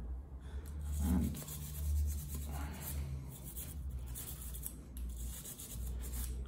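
Light rubbing and scraping as the side of a partly extended bicycle disc brake piston is cleaned, faint irregular strokes with low handling bumps, no talk.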